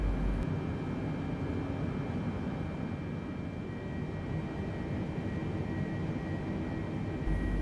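A light airplane taxiing toward runway 26 right, its engine a steady close drone that holds evenly throughout with no break or change in pitch.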